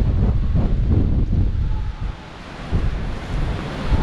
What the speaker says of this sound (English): I'm sure you can hear that wind blowing